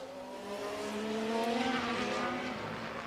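F1 cars race at the Las Vegas Grand Prix in F1 Manager 23, a loud, continuous high-pitched engine whine that rises and sweeps as cars run close together, with no talk.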